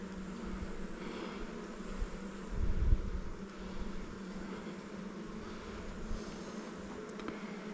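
Honey bees drone steadily in a new hive, a close continuous hum that swells briefly partway through, with no talk.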